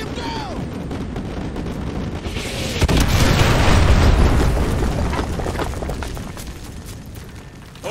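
Artillery strike in Call of Duty: Modern Warfare 2, a heavy booming explosion about three seconds in that rumbles loudly and slowly decays over several seconds, over a continuous background of combat noise.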